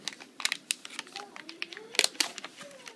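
Crinkly, snipping bursts come from packaging around an Intel 520 180GB SSD as it is cut open, a quick irregular string of close crackles and clicks, with a few faint vocal sounds in the background.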